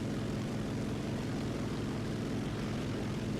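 Steady, loud drone of the I-180S propeller fighter's piston engine in War Thunder, a continuous rumbling buzz with a throbbing low pulse that holds unchanged for the whole span, with no voices.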